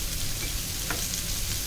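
Prawns with garlic fry steadily in a pan over medium-to-high heat, a continuous close sizzle with a brief crackle near the middle and no talking.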